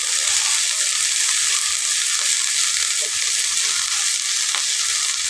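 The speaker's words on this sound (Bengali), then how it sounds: "একটুখানি কুচে রাখা পেঁয়াজ, একটু নেড়ে চেড়ে নেব।" Chopped onion with slit green chillies frying in a pan and being stirred, giving a loud, steady sizzle that continues unbroken throughout with no talking.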